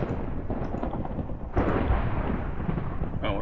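Heavy thunder from a thunderstorm rolls in a continuous low, dense rumble that swells sharply partway through and stays loud, with no talk over it.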